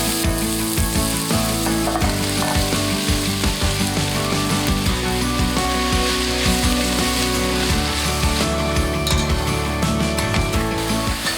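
Onions soften in oil in a pan for beef stroganoff, a loud, continuous close-up frying crackle with steady hiss and occasional pops throughout.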